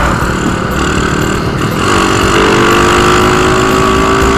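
A small motorbike engine hums steadily and loud throughout an evening ride, its pitch climbing gradually as it revs up midway, with no talk over it.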